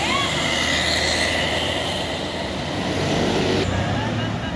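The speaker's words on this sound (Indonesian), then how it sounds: "Ini juga ada small bis lagi nih, Pio-Pio ya." A small Pio-Pio bus passes on a toll road amid constant loud traffic roar, engine and tire noise sweeping by with a faint rising whine and a shift near the end, while someone speaks over it.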